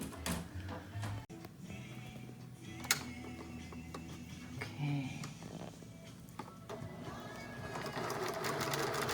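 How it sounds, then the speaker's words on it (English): A sewing machine stitches quilt squares for a first big quilt top, running in steady mechanical bursts with small clicks and knocks, fairly close, with faint background noise throughout. "This is Dana's machine. Man, it is nice"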